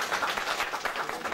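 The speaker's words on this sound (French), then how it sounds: "Je vous demande d'applaudir." Brief burst of audience applause at a launch ceremony for a Malian community network, welcoming a consul general; even, dense clapping from a room full of people, fairly loud, with no voice over it.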